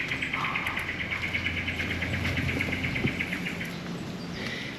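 Birds call in an Australian rainforest, a steady layer of repeated chirps and trills with insect-like buzzing running throughout, moderately loud and continuous, with no voices.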